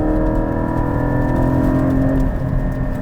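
A Porsche 718 Cayman GT4's engine pulls hard under acceleration, heard from inside the cabin as a loud, sustained drone with tonal harmonics rising and holding steady throughout.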